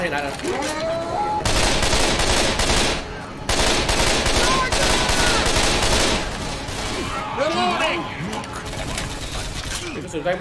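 Rapid automatic gunfire bursts in a video game, dense rattling volleys running nearly the whole time with brief gaps, loud and close, under excited shouting voices.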